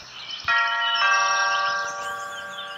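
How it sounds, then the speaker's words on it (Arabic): House doorbell ringing in a cartoon, a clear electronic ding-dong chime struck twice, bright sustained tones ringing out and slowly fading, heard alone. "يلا نرن الجرس."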